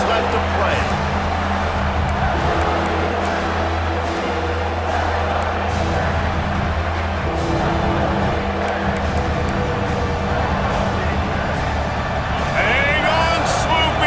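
Stadium crowd in College Football 26 keeps up a loud, dense roar for the whole stretch, a constant wall of cheering with a commentator talking over it.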